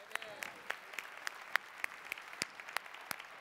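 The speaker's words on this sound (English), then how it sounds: "Give them a round of applause." A sparse round of applause at a motivational business event, with scattered individual claps popping out over a thin, quiet wash of hand noise. The sound is fairly faint and irregular rather than a dense ovation.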